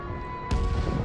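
Enemy artillery shells a Chinese delegation's quarters in a Korean War TV drama, heard as a sudden deep boom that swells into a sustained low rumble partway through a short stretch.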